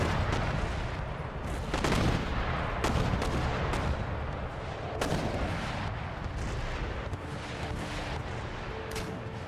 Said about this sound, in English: Their artillery is out over here. Mortars are engaging.